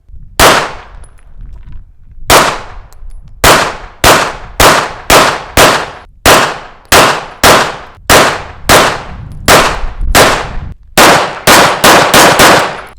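Sharp, loud gunshots fired at a prosthetic leg, about fifteen separate cracks at irregular short intervals, each with a brief ringing decay, close and with no talk.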